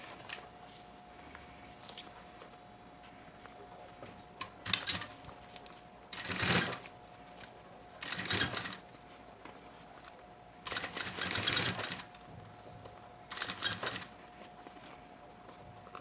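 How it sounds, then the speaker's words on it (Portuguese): A sewing machine stitches piping onto a synthetic leather school pencil case. It runs in five short, close bursts of stitching separated by pauses, with a faint steady hum underneath. "Vou posicionar aqui, ó, direito com direito, e vou vir aplicando o meu vivo."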